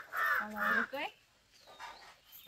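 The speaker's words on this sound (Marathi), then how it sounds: "तिथून ते आवाज देते मस्तपैकी बाकीच्या पक्ष्यांना ना अनामिका." A crow gives two loud, harsh caws in quick succession, followed by a fainter call, with birds faintly in the background.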